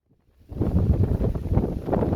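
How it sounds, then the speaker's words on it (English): Strong wind buffeting a microphone outdoors in a garden, starting abruptly after a near-silent moment and then roaring steadily and loudly with low rumbling gusts. "I hope you can hear me over the wind"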